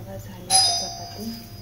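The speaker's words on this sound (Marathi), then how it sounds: "बेल वाजली." A doorbell rings once in a home kitchen, a bright chime that fades over about a second, with a voice talking around it.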